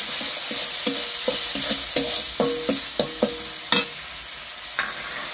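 Spices with salt and sugar frying in a pan for a snakehead fish curry, a steady sizzle under a regular series of scraping spoon strokes and knocks, one louder clank near the end.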